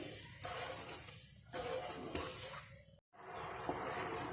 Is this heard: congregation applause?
no